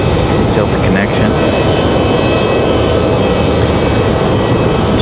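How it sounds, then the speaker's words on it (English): A Republic Airways jet flying as Delta Connection departs Raleigh-Durham for JFK, a loud, steady engine roar running unbroken from start to finish. "That Delta's headed off to JFK. That was Republic Airways 5599."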